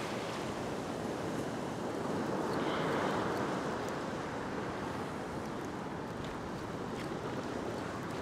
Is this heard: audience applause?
no